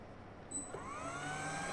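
An electric motor driven by a Schneider Altivar ATV312HU11N4 drive spinning up toward 50 Hz, a quiet, smooth whine that rises steadily in pitch with a faint hum beneath.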